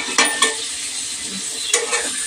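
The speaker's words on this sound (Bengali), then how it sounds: "এই যে মাটনটা ভালো করে কষছি" Spiced mutton being fried down in a pan, a continuous close sizzle punctuated by a few sharp scrapes and knocks of the spatula against the metal as it is stirred, no voices present.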